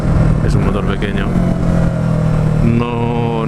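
A Yamaha R3 300 cc motorcycle with an aftermarket exhaust and catalytic converter runs steadily at close range. A loud, buzzing harmonic drone holds throughout, and the pitch steps up briefly near the end as the revs rise.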